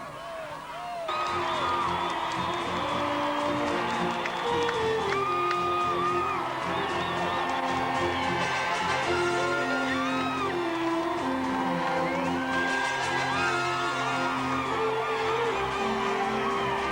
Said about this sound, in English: Acknowledging the cheers, the applause of a very knowledgeable capacity crowd